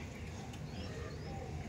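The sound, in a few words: female pigeon cooing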